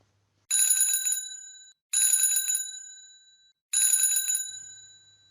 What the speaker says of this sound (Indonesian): Dan yang terakhir ada suara bel sepeda.